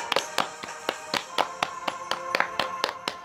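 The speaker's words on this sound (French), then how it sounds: "bravo le ver, applaudissements" Close, sparse hand claps, about a dozen sharp slaps in an uneven rhythm, from a small group at home cheering the winner of a party game; quiet room otherwise.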